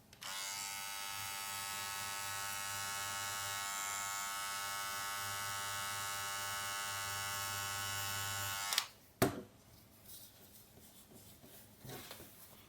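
A sewing machine runs steadily for about nine seconds, stitching the turned-in edge of sheepskin leather for a shearling coat, with a close, even mechanical buzz that stops abruptly, followed by quieter handling noise.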